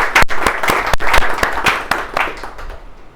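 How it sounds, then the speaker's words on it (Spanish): An audience claps at a book presentation, a brief burst of sharp, uneven applause that thins out toward the end. "Un aplauso también."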